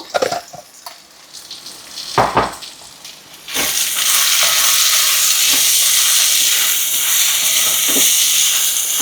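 A brinjal and raw mango curry cooks in a pan, first with a few stirs and scrapes, then a loud, steady hiss of steam and sizzle that fills the rest of the time.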